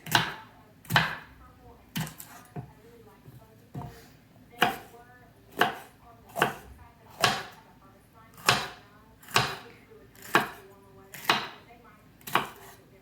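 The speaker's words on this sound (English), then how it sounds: "Then I turn the pepper over like this, and I do slices." Yellow bell pepper being sliced with a knife on a cutting board, about a dozen sharp, close chops spaced roughly a second apart, with faint speech between strokes.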